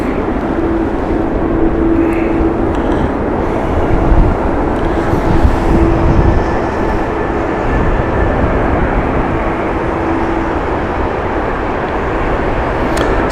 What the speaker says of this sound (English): Beautiful Miami flight inbound next